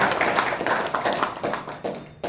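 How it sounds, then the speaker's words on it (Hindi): An audience at a business plan discussion and development program in Barasat claps in brief bursts of applause, close and fairly loud, with the claps uneven and fading. "एक बार सबके लिए तालियां हो जाए।"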